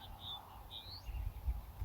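Small birds chirp outdoors in near-silence, a few high thin tweets and rising calls spaced apart at moderate distance, with low rumbling background and no voices.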